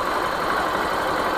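A nine-month-old Easyride 150N motorcycle idles with its engine running evenly, producing a constant, close, moderately loud hum and rumble with no talking over it.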